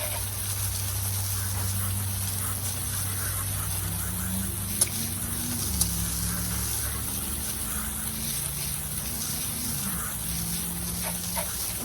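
Water spray hissing steadily as a car is rinsed off, a continuous broad wash over a low droning motor, with a couple of sharp clicks along the way.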